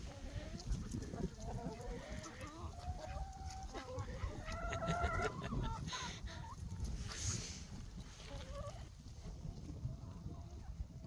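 Chickens cluck and chatter close by amid steady outdoor background noise, with a brief rooster-like call partway through.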